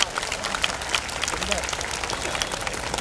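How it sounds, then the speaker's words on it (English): An audience claps at a nursery school function, a short burst of scattered hand claps with a voice speaking over it. "Kindly clap, audience."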